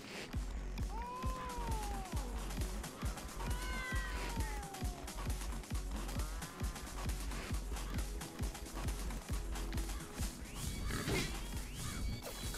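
Repeated cat meows in the video game Tokyo Jungle, several rising and falling calls across the stretch, over a busy backdrop of rhythmic thumps and clatter.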